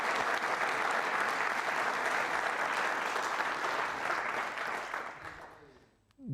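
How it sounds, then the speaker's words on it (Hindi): Loud, sustained audience applause at a university quiz show, a dense wash of many hands clapping that holds steady, then fades out near the end. "तालियां जोरों से बजनी चाहिए,"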